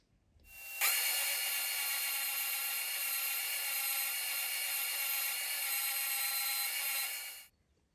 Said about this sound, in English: using the spindle sander or bobbin sander just over here and just gradually bringing that in